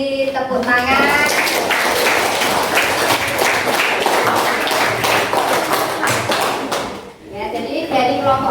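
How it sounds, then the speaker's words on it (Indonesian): Classroom audience applause after a group presentation: a dense wash of clapping hands from many people that runs steadily for several seconds before fading, with voices chatting at the start and end. "Kita beri tepuk tangan."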